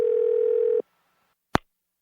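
A steady telephone dial tone hums for under a second after a number is dialed, then cuts off, followed by a brief silence and one short click on the line.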